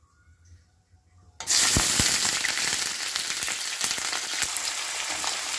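Onions hit hot mustard oil for Punjabi-style eggplant bharta, bursting into a loud, steady sizzle with crackling pops after a brief quiet start.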